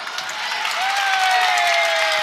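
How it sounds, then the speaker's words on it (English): A home crowd at a boys high school basketball game lets out a sustained mocking roar after a referee's call, a loud, steady wash of voices and cheering that swells and holds. "the Bronx cheer from the Western faithful as they're happy to see a call go against Calvert"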